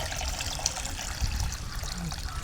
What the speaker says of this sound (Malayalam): ഇരട്ടി വെള്ളം ഒഴിക്കണം